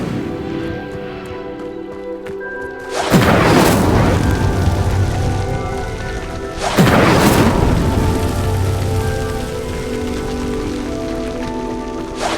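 The Incendio fire spell in Hogwarts Legacy igniting pyres, heard as two loud whooshing fiery bursts a few seconds apart, each flaring sharply and then settling into a crackling roar beneath a soft musical backdrop.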